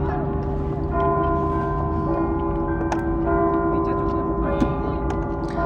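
A church bell rings close to a cricket field during a live match, its steady tone sustained throughout beneath a commentator's talk.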